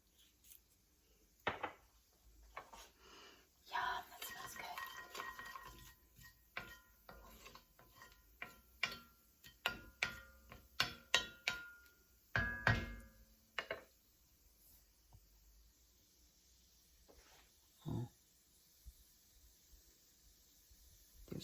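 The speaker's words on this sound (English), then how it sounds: "And I can hear them starting to sizzle." Spice seeds sputter and crackle in hot coconut oil in a pan, heard as quiet scattered pops and clicks in irregular bursts with gaps of near silence.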